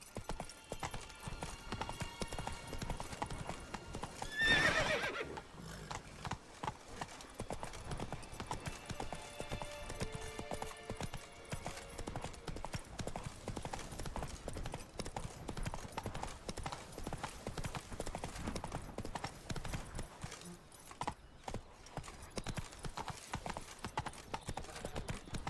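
Horse galloping in The Witcher 3, a steady rapid clip-clop of hooves on the ground that continues throughout with brief whinny-like accents, and a voice speaks briefly.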